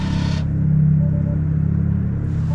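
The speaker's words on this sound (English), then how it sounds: "Currently installed in the vehicle, the Porsche Taycan eSport sound." An artificial Porsche Taycan eSport drive sound plays inside a Tesla Model 3 Performance on a snowy winter road: a steady low synthetic hum with a faint rising tonal whine over road rumble, close and continuous.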